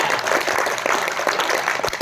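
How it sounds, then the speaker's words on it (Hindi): An audience clapping in a hall during a motivational business talk: dense, steady applause for about two seconds with no one speaking over it. "अपने फायदे के लिए जब ताली बजाते हैं तो कैसे बजाया जाता है?"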